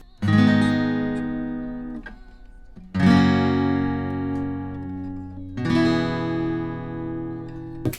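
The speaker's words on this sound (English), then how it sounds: "So this is Kelly playing guitar." Raw electric guitar recorded through an A Designs preamp plays three sustained strummed chords, each ringing out and decaying before the next, clean and alone.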